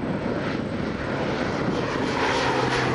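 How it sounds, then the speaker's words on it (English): An Air Georgian Beechcraft 1900 turboprop runs close by, a steady loud propeller drone with a low hum that holds even and unbroken throughout. "Air Georgian Beechcraft 1900."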